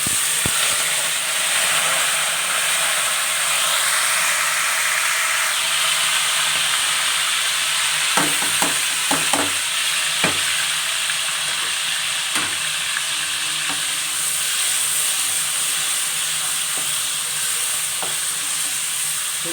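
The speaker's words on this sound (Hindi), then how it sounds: "लहसुन अदरक को हम इसमें सही से सौते कर लेंगे। ऑयल में अच्छे तरीके से भून लेंगे।" Garlic and ginger paste sautéing in hot oil for white karahi, a steady close sizzle with occasional clicks and scrapes of stirring, no voice over it.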